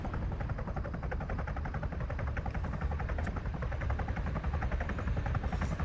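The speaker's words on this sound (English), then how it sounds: "Look southeast, that's our chopper." A continuous rapid thumping of helicopter rotor blades fills the clip, loud and close, with faint crackles of gunfire mixed in, from a video game mission.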